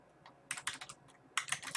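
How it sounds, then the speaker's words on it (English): Keystrokes on a computer keyboard come in two quick bursts of close, crisp clicks separated by a short pause, heard alone with no talking. "We'll just type in his last name since it's not that common."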